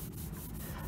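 Soft, steady rubbing of shading on a drawing as it is smoothed, a faint continuous scratchy texture with gentle repeated strokes and no voices.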